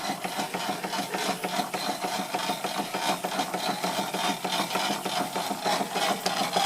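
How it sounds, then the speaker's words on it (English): A 7 bar air compressor drives a Stuart Victorian mill engine, giving a steady, fast mechanical chuffing and rattling rhythm that stays fairly loud and even throughout, with no talking. "I've got a 7 bar compressor under here."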